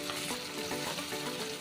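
Three large mashed chopped onions sizzle briskly in melted butter in a pan, a close, continuous crackle with occasional stirring and no talk.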